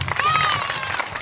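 Applause from a school audience greeting the principal at a school event, a dense, steady patter of clapping lasting about a second, with crowd voices and a whistle-like tone mixed in.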